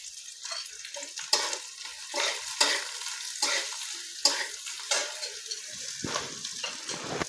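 A paste of coriander, cumin and fennel fries in a pan with curry leaves for a kachori filling, a close sizzle punctuated by a regular series of scraping spatula strokes, with no talking.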